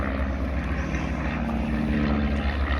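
Steady droning engine of a propeller-driven, fabric-covered rag-and-tube display plane with a Continental or Mathis engine of 130 to 175 horsepower, heard loud and continuous at an air festival display, with no voices.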